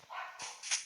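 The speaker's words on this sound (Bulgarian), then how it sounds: "Извините за кучето. Много лай." Dog barking indoors in a room, two or three short sharp barks in under a second, moderately loud and close with no talking over them.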